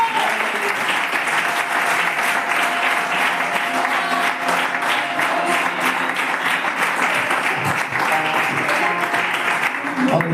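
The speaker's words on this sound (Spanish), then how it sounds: "Dale ese fuerte aplauso para Dios." A church congregation gives a loud, sustained round of applause that fills the space for about ten seconds, with faint voices and cheers mixed in under the clapping.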